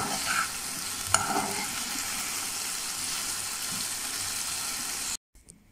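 Oyster mushrooms and potatoes fry in a pan with a steady, close sizzle and crackle that holds evenly for about five seconds, then cuts off abruptly, leaving only faint quiet sounds.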